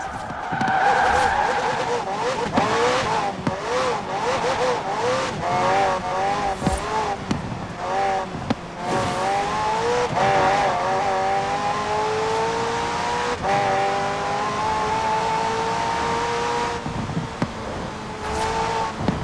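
A McLaren twin-turbo V8 hybrid racing in Forza Horizon 4, its engine rising and falling through the gears with long tire squeals and skids, loud and close, with a voice talking over it.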